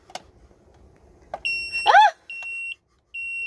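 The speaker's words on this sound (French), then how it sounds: "Est-ce que tu vas entendre mon alarme?" Temperature alarm on a thermometer in a camper van, set to 30 degrees, sounding loud, piercing repeated beeps after a few clicks and a brief voice.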